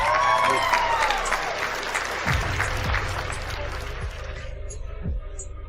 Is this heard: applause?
yes